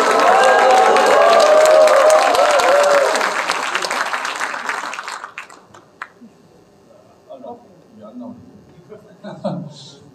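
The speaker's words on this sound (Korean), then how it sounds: "여러분 박수 함성 좀 부탁드리도록 하겠습니다." A loud burst of clapping and cheering from the crowd at a book launch event in a lakeside library, held for about five seconds before fading to scattered claps and murmurs, with a voice over the start.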